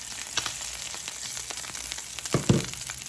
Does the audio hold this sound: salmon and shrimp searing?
yes